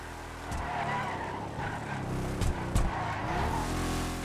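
A Declasse Vamos in Grand Theft Auto 5 skids with tire squeal over a running engine, the screech rising in a couple of sharp bursts near the end.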